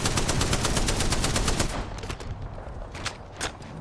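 Rapid automatic gunfire bursts in a Special Forces-style shooter video game, a dense loud rattling stream for nearly two seconds, then scattered single shots and clatter at lower level.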